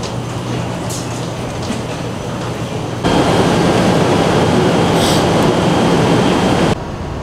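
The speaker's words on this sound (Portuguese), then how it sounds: "a gente pegou o trem que sai da KL Central e ele já vai para direto na Batu Caves" A KTM Commuter train runs from KL Central to Batu Caves in Malaysia, giving a steady rolling rumble from inside the carriage that grows noticeably louder partway through. No one speaks.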